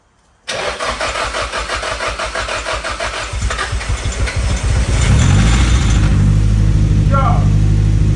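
A Nissan 180SX Type X cranks with a rapid, pulsing starter whir, then catches and settles into a loud, deep, steady idle that rumbles on close by.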